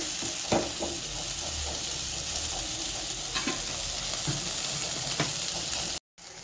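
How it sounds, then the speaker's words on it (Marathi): Okra fries in a pan with onion and tomato, giving a constant close sizzle marked by occasional spatula taps and stirring scrapes, then cutting off briefly near the end. "थोडे वेगळे पद्धतीने त्याला चांगला फ्राय होऊ दे"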